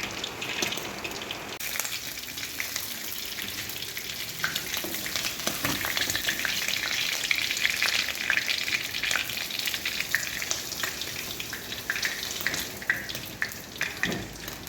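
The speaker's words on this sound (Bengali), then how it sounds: "এই যে সুন্দর করে কাঁকড়াগুলো লাল লাল করে ভেজে নিতে হবে।" Crabs sizzle steadily as they fry red in a pan, a continuous close crackling hiss with occasional stirring clatter and no talk.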